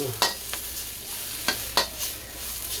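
Broccoli stir-frying in a pan for beef and broccoli, giving a steady low sizzle punctuated by a handful of sharp, scattered pops and spatters, fairly quiet and close with no talking.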